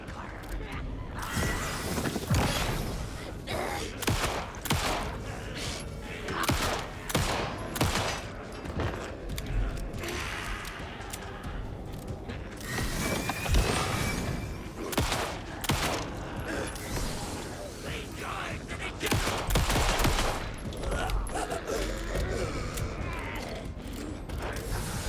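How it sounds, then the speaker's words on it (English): Near-constant volleys of gunfire in the video game Alan Wake 2, dense, loud bursts and mechanical clacks running almost without pause, with a voice talking over the action at times. "Ooh, that was a lot of bullets."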